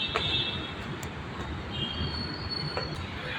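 A metro train runs through Bhosari metro station in Pune, a loud steady rumble of wheels on rails with high squealing tones rising and fading, heard alone without speech.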